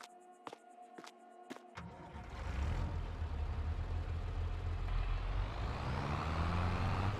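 A gas tanker truck in Farming Simulator 22 starts with a few sharp beeps, then its engine rises into a steady, loud rumble as it rolls forward.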